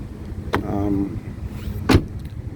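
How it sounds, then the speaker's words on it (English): A rear-hinged suicide door on a BMW i3 electric car opens with a sharp latch click, a brief whirring movement, then a second solid clunk a moment later. "the suicide door that opens up like this"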